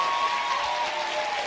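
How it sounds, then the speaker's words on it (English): A lecture audience claps as loudly as it can, a brief, steady burst of many hands at close range without voices. "I want everyone to start clapping as loud as they can if you're really excited"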